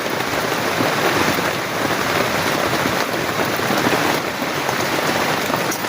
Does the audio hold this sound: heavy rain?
yes